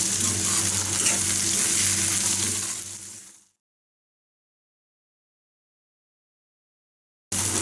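Salted masala for an egg roast fries and sizzles in a pan while it is stirred, a dense close hiss that runs for a few seconds, then cuts off into silence before briefly returning.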